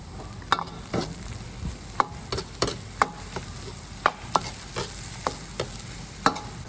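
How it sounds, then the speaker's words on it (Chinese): Soy sauce goes into a wok for stir-frying: a soft, continuous sizzle punctuated by a dozen or so sharp scraping stir strokes at an uneven rhythm, with no voices. "慢慢炒， 加点酱油，"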